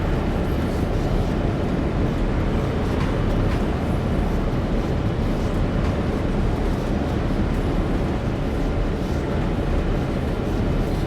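A train in Train Sim World 2 coasts downhill with its engine idling, producing a loud, constant low rumble and rolling drone that continues unbroken throughout.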